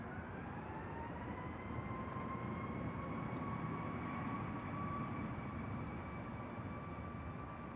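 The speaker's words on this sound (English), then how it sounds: "Ryanair rolling next." A Ryanair Boeing 737 MAX 8 rolls for takeoff at Manchester Airport in the evening, giving a steady, distant jet roar with a faint whine that holds level throughout.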